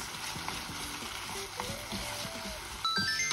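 Beef seasoned with soy sauce sizzles in a sukiyaki pan, a steady moderate frying crackle with occasional stirring clinks and scrapes, and a brighter burst of sizzle near the end.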